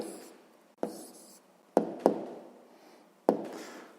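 Pen writing out an answer on paper during a sixth-grade maths exercise: a faint, close scratching broken by a few sharp taps of the pen tip, with quiet between strokes.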